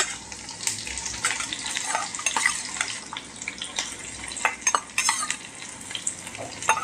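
Chopped onions sautéing in hot oil in a pan for South Indian brinjal thokku, a steady crackling sizzle with repeated scraping stirs of a spoon, fairly close and with no voices.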